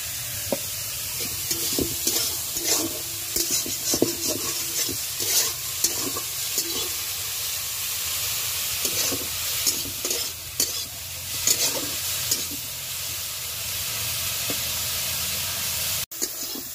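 Small shrimp sizzle and fry in a pan while a utensil stirs them in repeated scraping strokes, a steady close hiss throughout with no talking.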